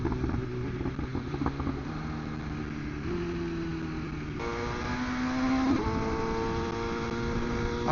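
BMW S1000RR sport motorcycle ridden on the road, its engine note held steady then climbing through gear changes with rising whine and a sharp rev near the end, loud and close under rushing wind.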